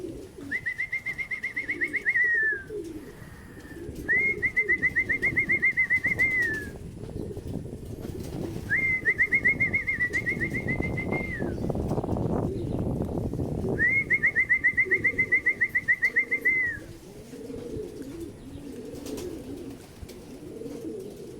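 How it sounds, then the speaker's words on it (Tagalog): Racing pigeons return to the loft after a 73 km club training flight from Calamba, Laguna, with bursts of high warbling, whistle-like tones over a rushing wash of noise, rising and falling several times with no talking. "Ito na sila mga kalapatids."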